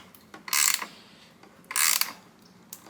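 A 13mm ratchet tightens the terminals on a portable power station, making two distinct bursts of rapid, close clicking separated by a pause, with a few faint clicks at the start and end.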